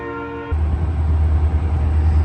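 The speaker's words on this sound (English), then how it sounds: "So I gotta wait till the train pass." A train rumbles past close by after a sustained multi-tone horn blast, its loud low roar continuing steadily to the end.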